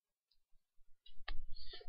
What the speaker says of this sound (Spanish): lo que hacemos es con el teclado seleccionar todos esos datos